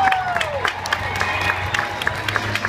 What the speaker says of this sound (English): Thank you for cheering them on.